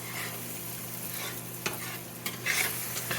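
Browned kroppkakor frying in a pan give off a steady, close sizzle, with a few soft scrapes as they are stirred.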